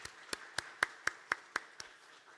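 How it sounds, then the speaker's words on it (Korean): A church congregation at a Friday prayer service claps in unison, eight sharp, evenly spaced claps about a quarter second apart, moderately loud in a reverberant hall. "우리 하나님 앞에 영광의 박수 올려드리겠습니다."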